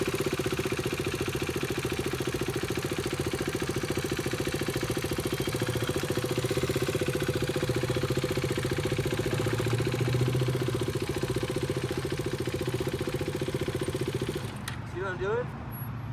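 A motorcycle engine idles at low speed with a steady mid-pitched drone and fine pulsing throb, close and even for most of the stretch, then drops away sharply near the end as a brief scrape follows.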